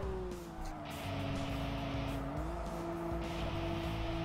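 Race car engine in the video game TXR3, with a new engine fitted, a loud steady high-revving drone with a slowly rising pitch and a hint of tire squeal, heard alone with no talk.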